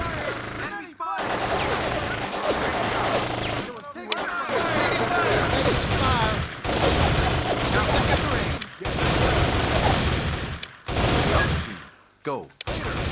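Rapid automatic gunfire in a 2003 Xbox shooter, dense loud bursts of rattling shots with brief pauses between volleys, radio-style voices talking under and between the bursts.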